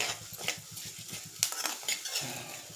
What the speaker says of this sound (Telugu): ఇప్పుడు ఇందులోనే ఈ జీలకర్రని ధనియాలు వేసేస్తున్నాను. ఇవి కూడా లైట్గా దోరగా ఫ్రై చేసేసుకోవాలి.